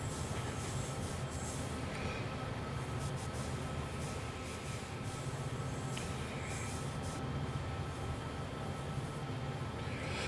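A train rolls steadily through a heavy morning storm in Train Sim World 3, giving a continuous rumbling run with faint wheel squeal and occasional track clatter throughout.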